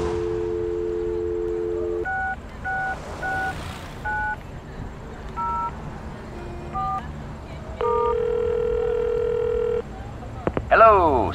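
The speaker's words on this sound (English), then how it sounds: "You pick up the phone, and to your delight, you get a dial tone." A telephone dial tone in the video game Leisure Suit Larry: Reloaded hums briefly, then a sequence of touch-tone dialing beeps, followed by a long steady tone and a rising electronic warble.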